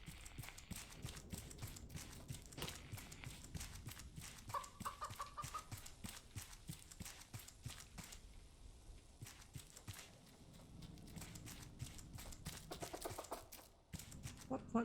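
Chickens cluck and crinkle on an island in the survival video game Raft, soft and steady under a busy backdrop of clicks and scraping, with a voice talking over part of it.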